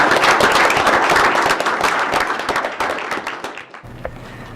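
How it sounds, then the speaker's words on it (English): At a city meeting, a room applauds with dense, loud clapping. It thins and fades over about four seconds, then ends with a low hum left. "get a round of applause for all your work at the city"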